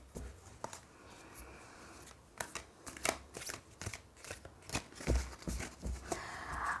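Tarot cards being shuffled, two decks handled in turn, giving a run of quick papery riffles and taps in irregular bursts, close and fairly quiet, with no talking.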